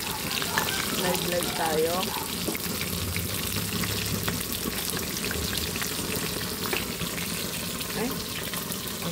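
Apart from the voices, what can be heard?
food frying while cooking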